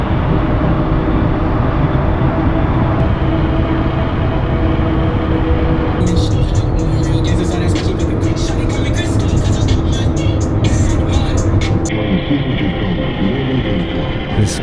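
A new ProMaster van drives near a beach. A steady road and engine rumble runs under a person talking, and a brighter hiss of traffic or wind rises in the middle of the clip.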